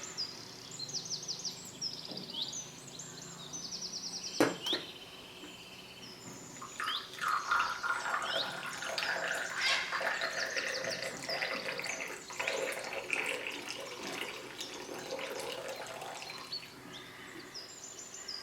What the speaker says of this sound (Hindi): तो ये कॉफ़ी रेडी हो चुकी है। अब इसको डालते हैं इसमें।